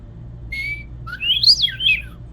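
A man whistles an imitation of a western meadowlark's song, a clear sustained note followed by a fluting, warbling phrase that rises and falls, close and alone over faint background hum.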